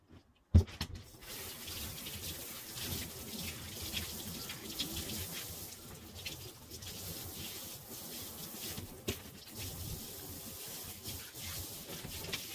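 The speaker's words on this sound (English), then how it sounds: "Okay, I'm going to rinse this out." Tap water runs steadily while hair is rinsed out at a sink, a continuous splashing rush with some rubbing, moderately quiet and close, with no talk.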